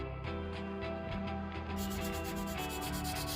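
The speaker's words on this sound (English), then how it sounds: "This was followed by standard sanding with a 180 grit sanding stick, and then smoothing with a 220 grit sanding stick." Rhythmic strokes of a 180 then 220 grit sanding stick rubbing filler on a Hawker Tempest Mk.2 model aircraft fuselage, close and steady with no talking.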